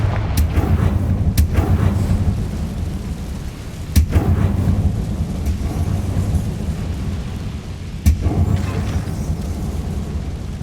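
A Confringo fire spell bursts in Hogwarts Legacy over a deep rumbling battle ambience, with several sharp booming blasts spread across the stretch.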